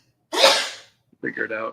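Someone sneezes once, loud and close, with a breathy burst, and after a short pause a person speaks briefly.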